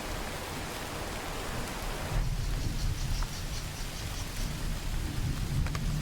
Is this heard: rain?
yes